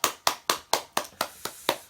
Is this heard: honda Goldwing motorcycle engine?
no